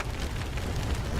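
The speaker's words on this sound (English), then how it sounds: "Enough with the fireworks." Fireworks exploding in the Don't Starve Together video game during a Halloween event, heard as a dense, continuous crackling rumble of bursts with no talk over it.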